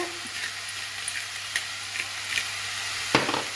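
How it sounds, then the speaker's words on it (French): Seasoned minced meat with salt, pepper and garlic powder being mixed in a bowl: soft wet squelching and scraping strokes at a steady rhythm, close, with one sharper clink near the end, no speech. "On va mettre de l'ail en poudre. Et on mélange."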